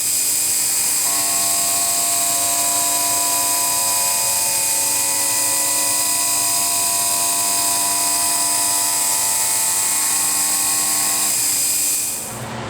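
A CNC mill cutter takes a contour pass on a rotor adapter being modified to fit a Toyota hub, giving a steady high whine with sustained tonal hum that runs evenly for about eleven seconds before dropping away.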